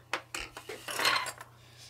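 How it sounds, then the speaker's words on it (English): A scalpel knife drawn along a marked line on a wood-sided B&M model boxcar, pressed into the joint. Several short, soft scraping and clicking strokes sound close, followed by a longer rasping slice near the middle. "Then we'll take the scalpel knife"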